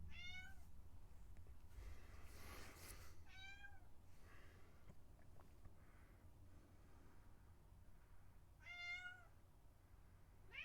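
A cat meows several times in short, rising calls spaced a few seconds apart, fairly clear over a steady low background hum.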